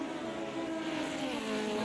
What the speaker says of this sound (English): Hopefully the cars aren't too loud for you as they are screaming by.